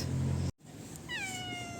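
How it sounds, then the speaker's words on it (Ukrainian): An Albanian street cat in Tirana gives a single drawn-out meow, heard clearly up close after a brief burst of background noise and a moment of quiet. "Подивіться, це вуличний албанський кіт"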